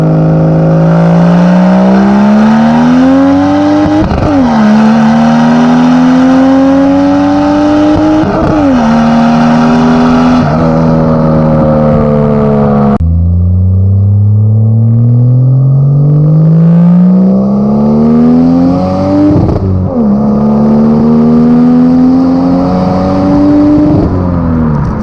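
A turbocharged Mercedes W203 with a swapped M104 engine and new 3-inch exhaust pulls hard, engine pitch climbing steadily through several gear changes, loud and close throughout with no talk.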